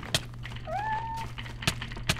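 A cat meows in a Technic modpack video game, a rising, drawn-out cry lasting about half a second, heard alongside a low steady hum and a few sharp clicks.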